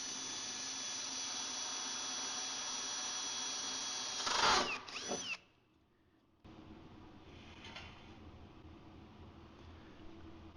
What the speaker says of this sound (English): First thing I do is I basically just run through it with an 1/8 inch drill bit.